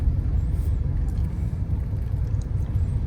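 A 1988 Pontiac Trans Am GTA runs with a steady low engine rumble under throttle, heard from inside the car as a continuous, fairly loud drone without speech.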